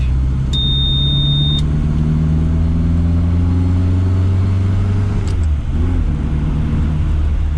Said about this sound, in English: The engine is the size of a motorbike engine, and so is the car.